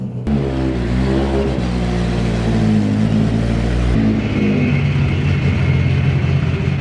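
A Toyota AE86 Corolla engine fitted with individual throttle bodies revs sharply, rising and falling with a strong harmonic whine, loud and near, then settles to a rougher idle.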